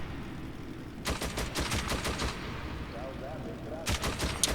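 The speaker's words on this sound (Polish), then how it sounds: "Jest to CKM, ciężki karabin maszynowy." Two bursts of heavy machine gun fire in the game Metro 2033, a longer one then a shorter one, rattle over a low rumbling background with a quiet pause between.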